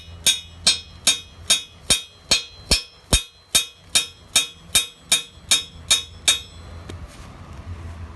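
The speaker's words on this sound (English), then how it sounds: "we're gonna go ahead and hammer the spike into the center of the tree" A hammer drives a metal spike into the center of a Christmas tree trunk for its stand, about fifteen sharp, evenly spaced ringing strikes up close, then stopping.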